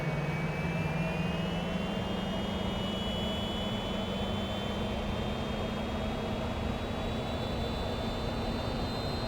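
A simulated Fouga CM.170 Magister jet engine spools up on the runway, a steady whining turbine tone rising slowly in pitch over a constant low roar, with no talking.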